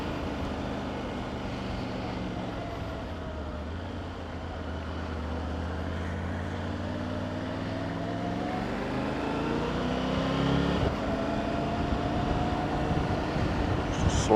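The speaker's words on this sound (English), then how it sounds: "Do wonder if you can hear the engine." A motorbike being ridden along a road gives a steady engine drone under wind and road noise, with a rising whine as it picks up speed toward the end; loud and close throughout.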